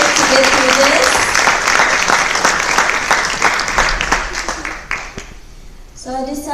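An audience at a live speaking event applauds for the speaker's mother, a loud dense burst of clapping that thins and fades out after about five seconds, followed by a voice speaking.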